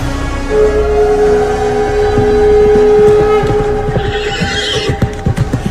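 A spirited horse neighs in a long, clear whinny, followed by a run of close clip-clopping hooves, set as a sound effect in an audiobook about a warhorse arriving outside a city gate.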